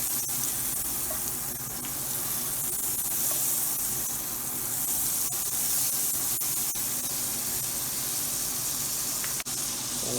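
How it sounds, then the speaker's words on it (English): Quarter stick of butter melting and sizzling in a hot frying pan, a steady, close hiss holding at an even level throughout with a few faint ticks and pops. "now we'll add 1/4 of a stick of butter into our pan. Allow this to melt."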